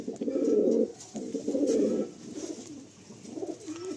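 Pigeons kept for sale coo close by in deep, throaty rolling phrases. Several bursts repeat, with short gaps between them.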